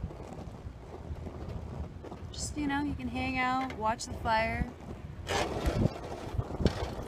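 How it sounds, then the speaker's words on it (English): Wind gusts roughly across an outdoor campus where a stove fire is burning, a steady low rumble of buffeting air running beneath someone talking throughout. "It's a little windy here at the Naropa campus."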